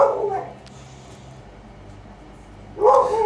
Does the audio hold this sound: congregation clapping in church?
no